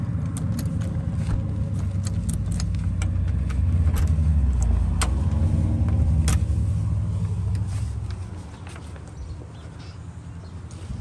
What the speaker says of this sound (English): So you see, you got the cars.